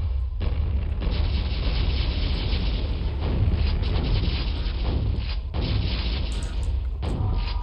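Shotgun blasts and booming gunfire from the game Quake, loud and dense with a few short gaps, close and continuous over game noise, no talking.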